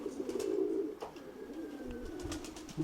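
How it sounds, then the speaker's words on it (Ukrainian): Soft, low pigeon cooing repeats steadily at close range, with faint outdoor background noise and a few light rustles. "Міцний голуб такий серйозний, такий, знаєте, сильно на крило"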